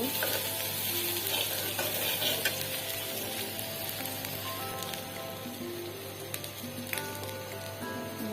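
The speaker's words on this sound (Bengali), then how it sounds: "কাঁচামরিচ পেঁয়াজ একটু ভেজে মাছটা দিয়ে দিব" Green chilies and onion frying in a little oil in a pan for a hilsa fish dish, a steady close sizzle with occasional stirring scrapes throughout.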